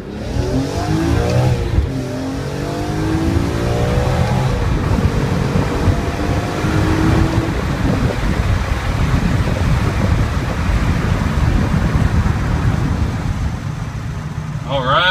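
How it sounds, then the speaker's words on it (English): A BMW E46 M3 accelerates at full throttle, its engine note rising loud and close through the gears over steady road and wind roar, with a voice briefly audible early on. "Okay, so we're about to hit the throttle."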